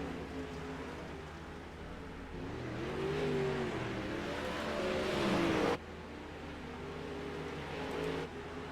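Race cars circle the track in iRacing, engines droning and revving as they pass, with one car swelling louder and rising in pitch before cutting off sharply, then a steady engine hum resumes.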